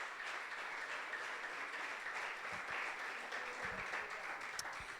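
A church congregation claps in praise during a service, producing steady, even applause that holds at a moderate level for about five seconds with no talking over it.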